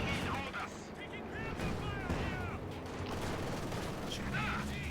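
Gunfire crackles in bursts during a Company of Heroes match, with scattered shots and explosive thuds under a commentator's continuous talk.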